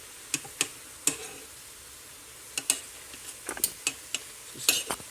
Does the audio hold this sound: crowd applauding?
no